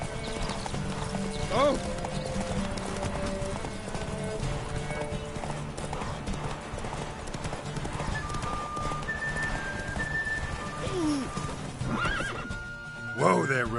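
Roach the horse in The Witcher 3 gallops with a continuous rapid clip-clop of hooves, neighing loudly near the start and again toward the end, while someone speaks over the hoofbeats.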